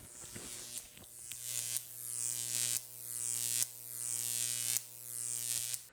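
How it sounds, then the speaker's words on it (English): An old transformer powering a Jacob's ladder gives off a loud, steady 60 hertz electrical buzz with a harsh crackling edge, swelling in repeated surges roughly every second as the arc climbs and resets, with no voices. "It gives it that nice 60 hertz buzz."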